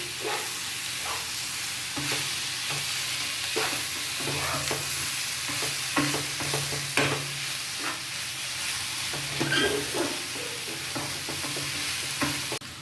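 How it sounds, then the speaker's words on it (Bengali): A fish finger mixture with sugar and garam masala powder is stirred in a bowl by hand, giving a steady run of close scraping and mixing strokes with no talking. "একটু চিনি দেবো, আর দেবো একটু গরম মশলা গুঁড়ো। এটা একটু মিশিয়ে নেব।"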